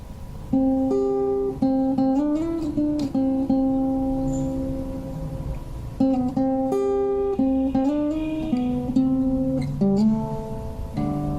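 An acoustic guitar picks the opening melody of a song, with single plucked notes and slides over a ringing low string, played close and alone, repeating the phrase twice.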